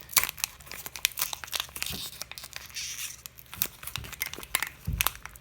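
Tape is peeled and torn off the packaging of a 2 oz Canadian silver Kraken coin, a close series of sharp crinkles, rips and crunches in irregular bursts, with no voices.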